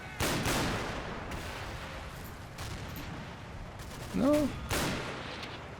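Anti-tank grenades and gunfire in the World War II video game Combat Mission: Battle for Normandy, a series of sharp blasts and bursts with a brief whining tone near the end, heard loud and close without talk.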